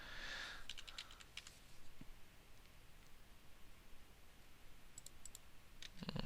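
Sharp, quiet computer mouse clicks while drawing a latch plate in CAD, a small cluster early on and a few more near the end, over steady faint background hiss.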